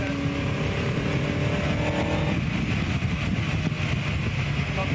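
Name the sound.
1959 Cooper Climax racing car driving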